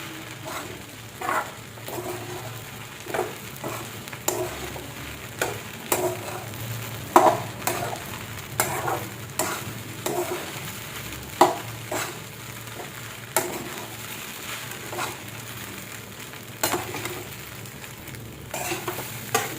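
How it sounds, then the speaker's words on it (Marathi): Sabudana tossed with plenty of crushed peanuts in a pan, a steady soft sizzle broken by repeated scraping stirs every second or so, close and moderately quiet with no talking. "जवळजवळ आता मी आहे ना 5 मिनिटं झालं अशीच शाबू परतली आहे"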